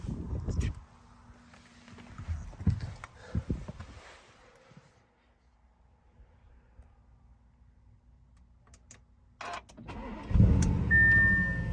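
A 2018 Audi S6 with a 4.0T V8: faint rustling and knocks give way to the engine cranking and catching near the end, then settling into a close, deep, loud idle rumble.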